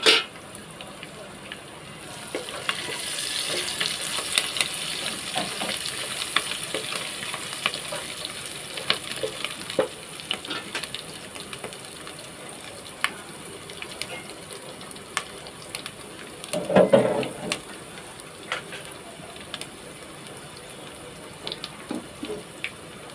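Garlic, ginger, green chillies and curry leaves fry in a pan, giving a steady close sizzle with occasional stirring scrapes and a brief louder clatter partway through; no one speaks.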